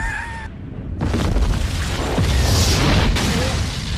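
A deep, roaring napalm bomb explosion bursts in after a brief near-silence, followed by a sustained rumbling blast that fills the rest of the clip.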